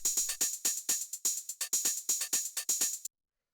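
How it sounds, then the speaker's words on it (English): Sharp, crisp drum machine hi-hats in the style of a 606 and 909, ticking in a quick regular pattern of bright metallic hits, loud and dry, then stopping abruptly. "which is just a 606 hi-hat, you know, very like sharp drum machine style hi-hat"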